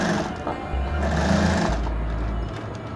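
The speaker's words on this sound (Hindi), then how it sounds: "एक पैर की सिलाई इसके ऊपर मार देंगे" A sewing machine runs a line of stitching while a pocket is attached to ladies' trousers, with a fast steady mechanical whir and a low hum that stops near the end, loud and close, with no talking.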